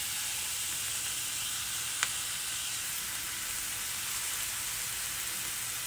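Onions fry in oil in a pan with a steady, even sizzle throughout, hissing softly and continuously, with one brief tick partway through.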